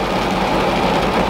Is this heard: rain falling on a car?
yes